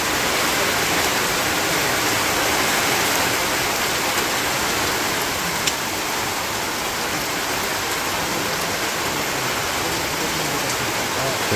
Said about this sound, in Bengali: তো বৃষ্টিটা হঠাৎ করে নামলো